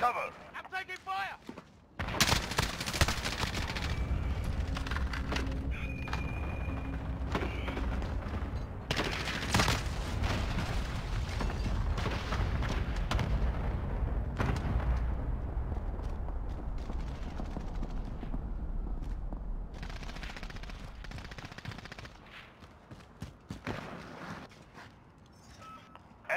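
A video game firefight plays out with bursts of gunfire and heavy cluster strike explosions, loud dense blasts in clusters separated by brief lulls, with game voice callouts mixed in.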